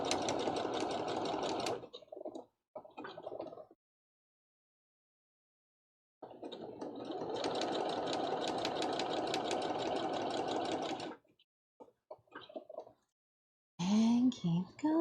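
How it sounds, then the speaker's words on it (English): A sewing machine stitches appliques onto fabric for a cosplay costume, running in loud, steady buzzing bursts of a few seconds each, separated by pauses and short stitch runs, close and with no talk over it. "Stitching over some of our appliques with more appliques."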